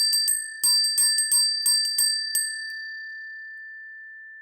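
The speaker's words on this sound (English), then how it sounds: "It's time for you to ring your beautiful feng shui bell." A small feng shui bell rings in a rapid cluster of bright metallic strikes, about ten quick dings, then a clear pure tone lingers and slowly fades alone.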